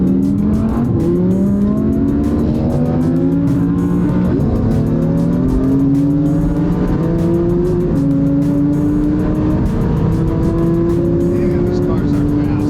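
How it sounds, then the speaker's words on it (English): A 1,050-horsepower Audi R8 race car accelerates hard on a track, its loud engine climbing in pitch through repeated gear changes, heard from inside the cabin and continuous throughout. "Damn, these cars are fast."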